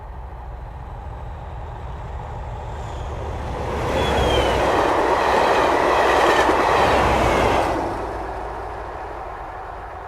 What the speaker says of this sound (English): let's listen to the other one of the 37s passing with the mic at a 45-degree angle to the tracks